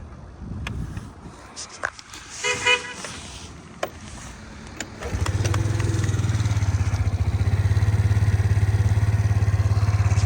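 Suzuki Lets 4 Basket fuel-injected scooter engine starting at about five seconds and then idling steadily and quietly up close, preceded by clattering handling noises.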